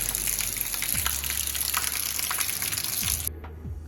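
Steady rain falls at a worksite during a valve change-out, a constant hissing wash with occasional low thumps, cutting to quieter patter near the end.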